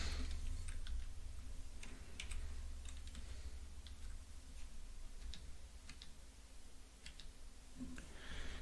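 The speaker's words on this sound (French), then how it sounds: "Donc j'appuie sur la touche égale." Computer keyboard keys are pressed during CAD modelling work, producing scattered light clicks over several seconds against a steady low hum.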